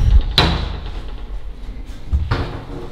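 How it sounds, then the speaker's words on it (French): A door in an abandoned hospital bangs shut twice, two sharp close knocks about two seconds apart with a faint rattle between them, no talk over it. "la porte se ferme"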